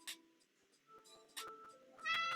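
A cat meows a few times indoors, the short, clear calls standing out against quiet room sound, with the last pair louder and closer.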